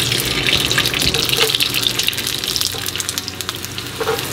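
A tortilla fries in a pan of hot oil, giving a continuous crackling sizzle with bursts of sharper spattering, close and fairly loud, with no voices.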